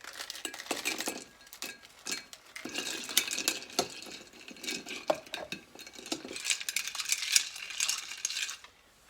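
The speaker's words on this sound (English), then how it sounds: "And I am going to add my ice and stir." A spoon stirs ice in a glass for a Christmas cocktail, giving close, irregular bursts of clinking and rattling cubes that continue throughout.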